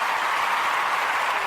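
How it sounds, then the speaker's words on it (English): A studio applause effect plays on a radio show: a steady, dense wash of crowd clapping that holds at an even level from start to finish. "Applause for her."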